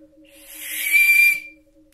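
A single breathy blast from a handmade simple whistle with a transverse cut, blown up close, swelling to a steady airy tone and fading out after about a second.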